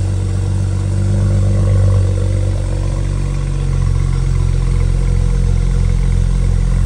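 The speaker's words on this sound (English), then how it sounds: "Give it a rev." A 2011 BMW 328i with a swapped N54 engine and 335i dual exhaust rumbles steadily at close range, its low drone swelling slightly, with no talking.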